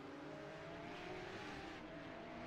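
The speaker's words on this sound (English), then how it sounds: "it just sounded like it went into neutral then. Just revs went through the roof" A Porsche Cup race car in a sim racing game at Circuit Gilles Villeneuve, its engine note climbing steadily as the revs rise sharply in neutral, a continuous, fairly faint whine with no voices.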